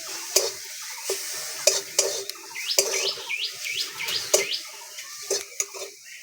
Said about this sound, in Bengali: রসুন আর আদাটা একটু হালকা করে ভেজে নেব শুকনো খোলায়।